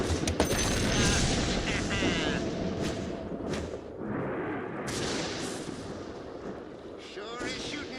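Dense gunfire and explosive blasts from a Dota 2 match, rapid overlapping bursts and booms filling the clip at close range, loud and chaotic with no talk.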